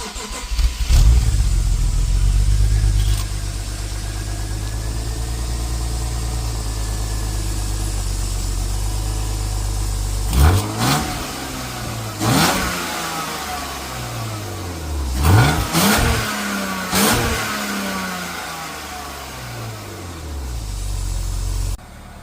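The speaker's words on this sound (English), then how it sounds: "let me give you a quick cold startup with the stock exhaust" A BMW E36 328i on its stock exhaust fires up from cold, settles into a loud steady idle, then gets several sharp throttle blips that rise and fall back, heard close and with no talking.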